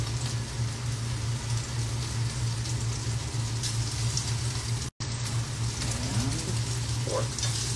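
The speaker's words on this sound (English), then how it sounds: "Okay, time to add my meat to my skillet." Eye of round chicken fried steak, floured meat cooking in a skillet, gives a steady broadband hiss and crackle of frying that runs continuously with a low hum beneath, close and moderately loud, briefly cut out once.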